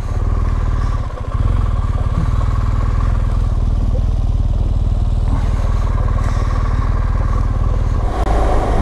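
A motorcycle, a Harley or BMW, cruises along the road on an autumn ride with a steady, loud low engine rumble and wind noise, nearly constant for the whole stretch, with no talking.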